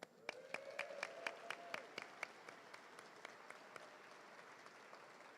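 Audience applause at a legislative reception in a great hall: a small group claps in scattered, distinct hand claps that start fairly crisp and then thin out and fade quietly.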